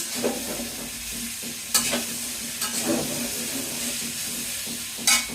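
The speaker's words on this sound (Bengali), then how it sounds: "রান্না করতেছি মিষ্টি কুমড়া ভাজি" Sweet pumpkin fries in a pan with a constant close sizzle, broken by a few sharp spatula scrapes and clatters spread across the stretch.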